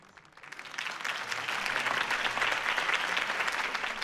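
A crowd applauds a campaign speech for Harvey Dent in Batman: The Telltale Series, the clapping swelling quickly from quiet into a loud, sustained ovation.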